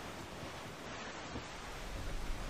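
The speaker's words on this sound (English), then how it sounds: "these waves are crazy" Ocean waves in the Assassin's Creed Black Flag video game roll as a steady, loud wash of surf and wind on the high seas, swelling slightly toward the end with no talk.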